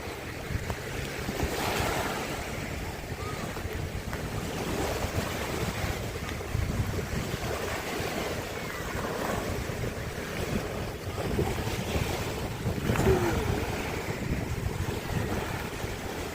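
Ocean surf rolls in at a beach with a continuous, moderately loud wash of waves and wind buffeting the microphone throughout.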